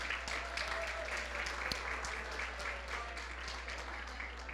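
An audience at a Chamber of Commerce event applauds sponsor Workers Credit Union, a steady, fairly faint patter of many hands clapping, with a few sharper individual claps standing out.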